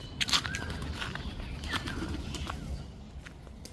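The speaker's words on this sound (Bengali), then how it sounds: "এটা আমাদের কবুতর" Domestic pigeons at a village home cooing softly in low repeated murmurs, with a few sharper chirps and clicks near the start over faint background hum.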